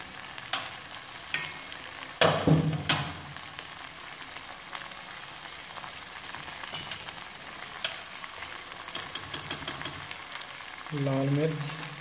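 Cumin seeds, salt and spices frying in a pan for spicy Yippee noodles, with a brief sizzling burst early on and scattered clinks and stirring through the rest, fairly quiet and close.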